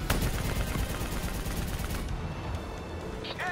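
Sustained automatic gunfire in Call of Duty: Black Ops 3, a dense rattle of shots and distant booms that thins out near the end, with a game character's shouted voice briefly over it.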